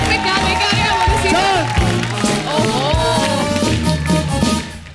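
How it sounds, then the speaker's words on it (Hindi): A television studio audience for a comedy game show breaks into loud, sustained applause and cheering, with a voice talking and musical tones over the roar before it fades at the end. "जोरदार तालियां इन तीनों महिलाओं के लिए"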